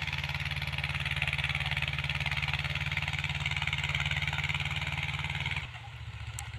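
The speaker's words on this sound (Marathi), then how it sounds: "छोटा ट्रॅक्टर येत आहे इकडं." Small Mahindra tractor engine running nearby on farmland, a steady low chugging throb that holds evenly, then the tone drops and shifts near the end, with no speech.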